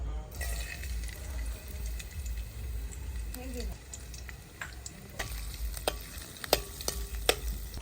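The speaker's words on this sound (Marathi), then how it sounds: "सर्वात आधी आपण तेल टाकून घेऊया सर्वात आधी लसूण टाकून घेऊया" Garlic sizzles in oil in a pan over a wood-fired clay stove in a Konkan kitchen, a soft steady frying hiss with occasional stirring clinks and scrapes, close and fairly quiet, while a person talks.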